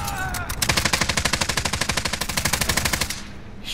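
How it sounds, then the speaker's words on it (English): Rapid automatic gunfire in a first-person shooter video game, a sustained burst of evenly spaced shots lasting about two and a half seconds, loud and close, with no talk over it. "He's shooting at someone."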